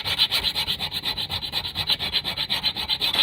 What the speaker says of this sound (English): just go ahead and sand all the contact points where your hardware fits until you can see this